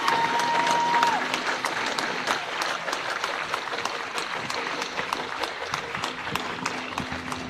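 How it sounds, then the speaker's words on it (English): A crowd at a street protest over the bones of MOVE children breaks into steady applause lasting several seconds, with a brief tone near the start. "You can clap."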